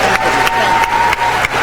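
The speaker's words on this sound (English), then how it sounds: "Let's hear a round of applause for Rod for taking on a really big job." A convention crowd at a state party gathering applauds, a steady wash of clapping that stays loud throughout, with a faint tonal hum running beneath it.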